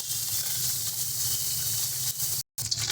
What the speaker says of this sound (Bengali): দেখো মাছটা আমাদের মোটামুটি ভাজা হয়ে এসছে